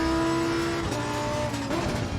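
A GT race car in Assetto Corsa Competizione screams at high revs, then the pitch drops in quick stepped blips as it downshifts, loud and close with no talk.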